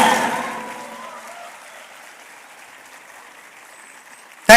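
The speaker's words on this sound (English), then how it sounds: "can you all give a big round of applause to your parents, your family, and your faculty" Convocation audience applause, already fading at the start as the clapping thins out and dies away into quiet, before a brief sharp burst at the very end.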